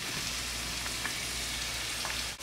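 Chopped onions and green onions frying in a pan, a loud, steady close-up sizzle that hisses continuously throughout, with no talk.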